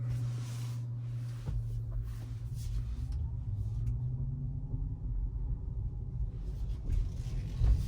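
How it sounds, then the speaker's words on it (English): Steady low road rumble of a Tesla Model Y driving along at about 45 mph on Autopilot in light traffic, with tire and engine noise holding constant and a faint passing whoosh partway through. "A little bit of traffic out here on the road today."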